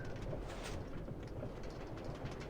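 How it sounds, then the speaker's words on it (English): A Minecraft train rumbles and rattles steadily along, a constant low roar with faint clicking, fairly quiet and without voices. "But the train goes so fast"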